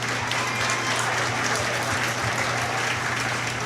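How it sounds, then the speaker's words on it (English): Applause from the crowd at a county steer show, a continuous wash of clapping held at an even level with a steady low hum beneath it. "So give him a good round of applause on a tough group"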